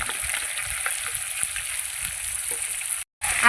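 Potatoes and onions fry together in a pan, giving a steady, close sizzle with faint stirring ticks, briefly cut to silence near the end before the frying resumes.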